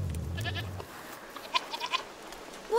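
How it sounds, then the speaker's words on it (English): Goat bleating in the video game A Plague Tale: Requiem, a few short nasal bleats in the second half after a low rumble at the start, moderately close with no talk over them. "You're a nice goat, Lucinda."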